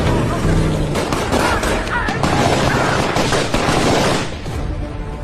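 A sustained, dense burst of gunfire crackles loudly for several seconds amid a chaotic firefight, easing off slightly toward the end.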